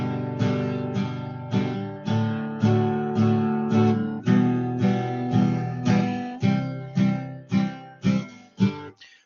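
Guitar strumming a simple, repeating chord progression with steady, even strokes and no accented notes, each chord ringing clearly and decaying toward the end, played alone with no talking.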